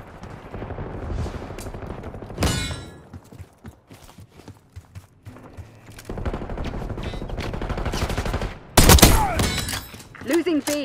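Gunfire from a Call of Duty Black Ops 6 multiplayer match, bursts of shots scattered across the scene with a loud, sharp volley near the end, mixed with game noise and faint background talk.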